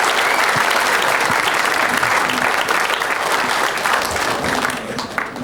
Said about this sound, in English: Fans generously applaud.